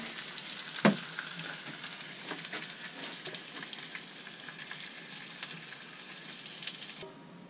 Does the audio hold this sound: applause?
no